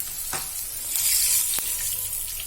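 Asafoetida, turmeric and curry leaves sizzle steadily in hot oil on a lowered gas flame while okra and onion sabzi is cooked, a close, continuous crackle with a brief stir or two and no talk.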